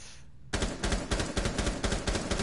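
Rapid automatic gunfire in the video game Rainbow Six Siege, a steady burst of loud, close shots in quick rhythm that starts abruptly and keeps going without talk.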